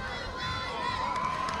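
A crowd cheers and shouts continuously at a St Patrick's Day parade in Bayonne, a dense, noisy roar of voices with whistle-like tones heard from close by.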